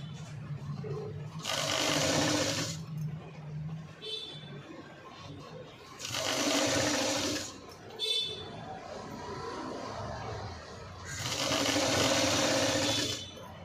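Sewing machine stitching pieces of a V-neck cut-work blouse, three loud, steady whirring runs of a few seconds each, separated by pauses where someone talks quietly.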